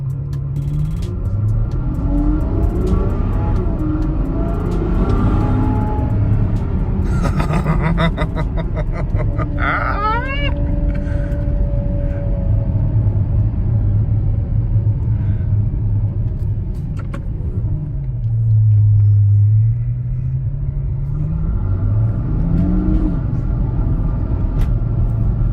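A Ferrari FF pulls away in first gear with a deep, steady engine rumble that swells and falls through a couple of revving surges, heard from inside the cabin and continuous for the whole stretch.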